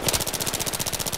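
Rapid automatic gunfire from the Battlefield 3 video game, a fast, even burst of close, loud shots in steady rhythm.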